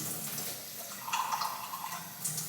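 Tap water runs in a new apartment in Dubai, a steady close splashing stream with no talk over it.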